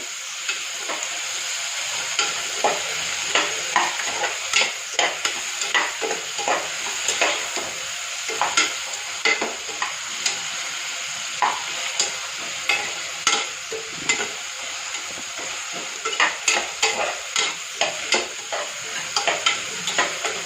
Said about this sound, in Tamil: முள்ளங்கி நல்லா வதக்கணும்.